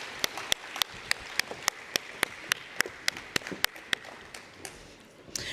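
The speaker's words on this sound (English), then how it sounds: "Everybody give them a round of applause one more time." Sparse, evenly spaced claps ring out over a low murmur of background noise as a summit audience gives a short round of applause for a panel.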